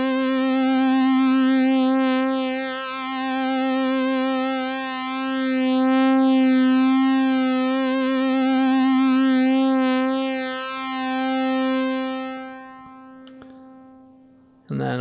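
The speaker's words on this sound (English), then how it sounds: "You can hear that detune happening. It's a sine wave on that one." A steady sine tone from a Nimbus digital polyphonic synthesizer, with a slow, wavering beat from detuning, swells and dips in volume, then cuts off near the end.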